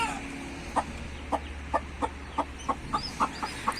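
A white hen clucks in short, evenly spaced bursts, about ten clucks in a steady rhythm, close by over a low background hum.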